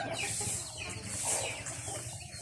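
Chickens clucking at a rural Isan farm in the evening, a steady, busy flock murmur with overlapping short clucks close by and continuous over the whole stretch.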